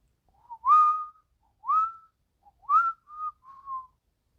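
A person whistles a short tune in four or five rising, sliding phrases with brief gaps between them, clear and close with no other sound.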